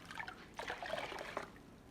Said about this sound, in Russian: как я снимаю излишки затирки губкой